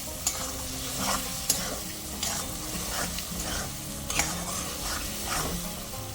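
A crab curry masala being sautéed in a pan gives a continuous close sizzle, broken by regular scraping strokes of a spatula and a couple of sharp metallic knocks.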